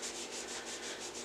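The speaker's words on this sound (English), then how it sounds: "Let me move out of frame and scrub on myself a little bit." Makeup being scrubbed off skin with a wipe and towel, a steady close rubbing swish in soft rhythmic strokes, with no talking.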